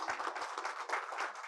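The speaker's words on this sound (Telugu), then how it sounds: "ఐ థింక్ మనందరం కూడా గట్టిగా క్లాప్స్ కొట్టాలండి ఒకసారి." An audience at the Bhagvanthudu movie teaser launch event claps throughout, fairly faint and steady, with a soft roomy wash of many hands.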